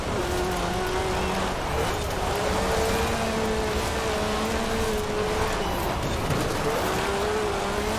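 A car driven in Forza Horizon 4 on PC, its engine droning steadily with rising and falling pitch as it accelerates and shifts, constant and fairly loud, with faint tire noise underneath.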